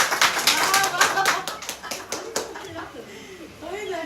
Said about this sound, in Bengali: না একটা হাততালি দিয়ে দাও